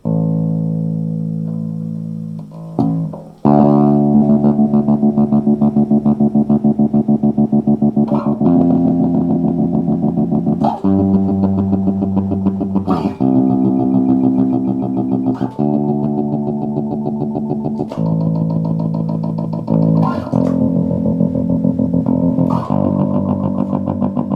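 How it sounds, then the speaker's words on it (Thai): A bass guitar played through a guitar delay pedal, sounding loud and sustained with a series of plucked notes and repeating echoes carrying over one another, with no talking. "สำหรับดีเลย์ผมว่า ใช้งานได้ดีเลยล่ะนะ เสียงมันแบบเข้ากันได้ดีมากนะฮะสำหรับดีเลย์"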